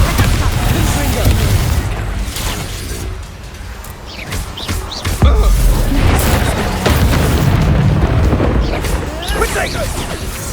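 Explosive spells blasting in Hogwarts Legacy gameplay, booming bursts and crashes repeating over dense, loud game sound, with occasional voices calling out.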